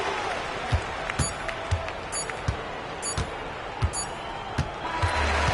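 Crowd noise from a Cyber EuroLeague basketball video game, Efes versus Monaco, with a steady roar and scattered cheers and claps running throughout, alongside repeated ball bounces and sharp thuds.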